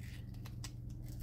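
Dedicated tape scissors snip through adhesive tape during a notebook-covering craft job, a couple of faint, brief cuts in a quiet room.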